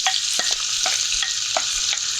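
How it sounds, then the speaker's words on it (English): Food sizzling steadily in a hot pan over a fire while making moque choux, a continuous bright hiss with a few brief scraping stir sounds, close and loud. "You hear that sizzle?"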